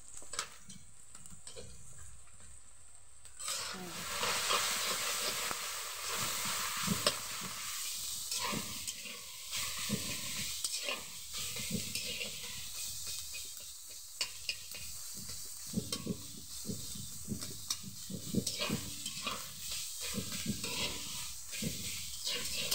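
Ghuta shak greens sizzle loudly in a hot pan as they are fried, with steady frying hiss and repeated scraping, stirring strokes from a utensil throughout, no talk.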